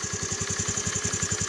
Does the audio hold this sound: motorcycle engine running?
yes